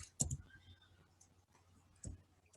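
Keys on a computer keyboard are typed in a few sparse, quiet clicks, two or three short taps close by with gaps of near silence between them.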